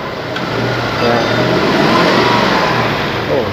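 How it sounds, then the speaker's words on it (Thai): A 1UZ-VVTi V8 car engine with a stumbling, shaking fault and an electronic throttle idles smoothly nearby, then revs up and settles back, with a steady mechanical drone throughout. "เครื่องยนต์นิ่งขึ้นนะฟังจากเสียงนะครับ"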